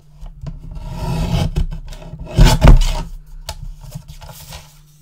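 White cardstock being cut to size for a Christmas mini album, heard as close, steady rasping and scraping strokes that build to a louder burst midway, then fade.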